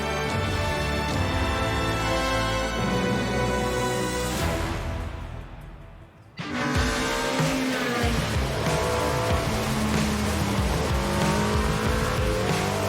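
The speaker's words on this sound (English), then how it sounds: "When an Alpina M3 E30 DTM with more than 300 horsepower flies over the asphalt like that" An Alpina BMW M3 E30 DTM race car with over 300 horsepower roars past at speed, its loud engine and tyre noise filling the scene, dipping briefly before surging again with sustained high-revving intensity and no talking.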